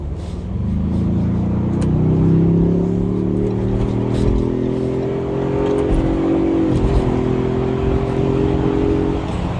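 Ford Bronco Sasquatch 2.3-liter four-cylinder engine accelerating with a steady rising drone, loud and close from inside the cabin, with a brief dip before climbing again.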